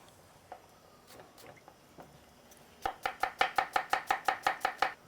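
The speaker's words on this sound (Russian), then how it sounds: "Дольками их резать." A knife slices a lemon rapidly on a board, a quick even run of about a dozen crisp cuts after a few slower, scattered taps.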